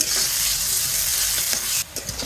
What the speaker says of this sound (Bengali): পেঁয়াজটা আমার আধা ভাজা হয়ে গেছে